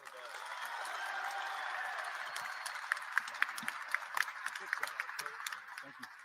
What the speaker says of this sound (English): Clap for him like you like him, not like you're mad at him